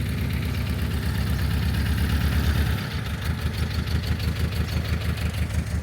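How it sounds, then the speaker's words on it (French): An old car's engine runs steadily nearby on a street in Thailand, a loud continuous idle with a rhythmic low chug and a brief dip midway, no voices over it. "Et ça, c'est vraiment la vieille voiture qui fait un show fou"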